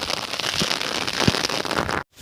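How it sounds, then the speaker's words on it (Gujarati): Heavy rain pours down steadily outdoors, a dense close patter with a few louder knocks of drops, continuous until it stops abruptly near the end. "આવતા હતા તો વરસાદ ચાલુ છે"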